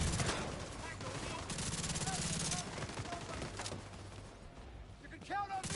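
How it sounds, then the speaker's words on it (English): Gunfire from a civilian in the Division 2 game crackles in rapid bursts at moderate distance, mixed with game noise and a voice talking over it. "It's a civilian shooting."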